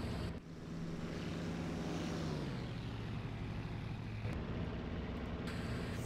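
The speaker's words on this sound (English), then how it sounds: "we can start to gently lift off" A Japanese navy A6M5 Zero fighter takes off in the IL-2 Sturmovik flight game, its steady propeller engine drone holding loud and close throughout, the pitch easing slightly lower midway as it climbs away.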